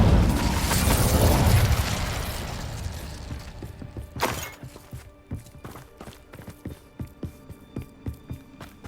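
In Hogwarts Legacy, an Incendio fire spell bursts out in a loud fiery whoosh that swells and slowly dies away, followed by a quieter run of rhythmic, evenly spaced footfall-like thuds.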